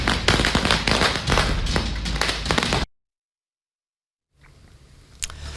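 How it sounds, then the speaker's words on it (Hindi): Firecrackers set off by children during Diwali celebrations in Delhi: a dense, loud run of rapid popping bursts cuts off abruptly into silence, followed by a quieter stretch with one more sharp pop. "वीडियो में बग्गा के साथ कुछ और लोग भी हैं जो बच्चों को पटाखे फोड़ने को कहते हुए दिखाई दे रहे हैं।"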